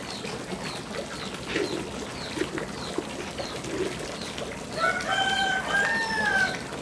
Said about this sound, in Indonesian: Enggak, saya suka dipatokin sama ayam juga nih.